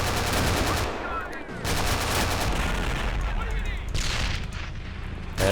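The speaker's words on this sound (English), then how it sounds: "let's get one more grenade in there" Battle in the video game Men of War: Assault Squad during the invasion of the Japanese mainland: dense, loud rattling gunfire and bursts of heavy explosions from grenades, nearly continuous, with a voice briefly under the din.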